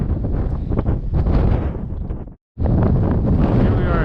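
Strong wind on a high mountain trail to Sky Pond in Rocky Mountain National Park buffets the microphone with a heavy, continuous roar, cutting out briefly for a moment before gusting back just as hard.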